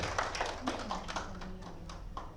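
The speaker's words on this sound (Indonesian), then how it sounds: "Kita berikan tepuk tangan untuk Pak Fitri." A small audience in a micro-teaching session claps briefly, a scattered burst of quick, fairly quiet hand claps lasting a couple of seconds, with a faint murmur of voices underneath.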